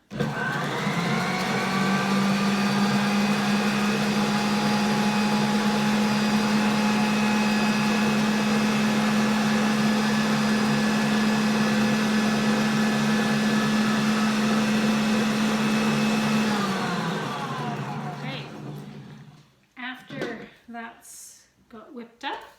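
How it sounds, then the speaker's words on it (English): A stand mixer with a whisk attachment whips oil, egg, sugar and salt until frothy, a steady loud motor whine holding for about seventeen seconds before winding down, followed by brief quiet clatter. "I'm just going to turn my mixer on. I have the whisk attachment, so I'm just going to get that nice and frothy"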